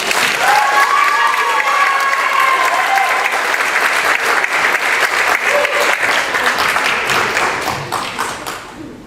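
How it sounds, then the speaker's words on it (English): Sustained applause from a school audience honoring student artists at a Provincetown IB public school event, dense steady clapping with a few faint voices mixed in, tapering off near the end. "Let's give one more big round of applause to all of our student artists"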